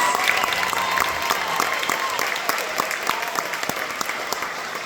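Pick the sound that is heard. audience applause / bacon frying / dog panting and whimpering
audience applause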